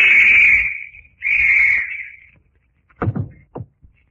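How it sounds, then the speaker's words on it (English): In an old-time radio drama, an alarm whistle is blown in two long, shrill blasts, followed by several loud thuds and knocks. "The whistle will summon others."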